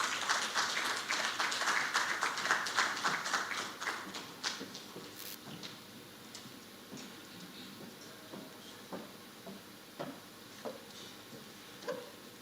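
Applause from a conference audience at a states' economic forum, dense and steady for about four seconds, then thinning to scattered individual claps that trail off.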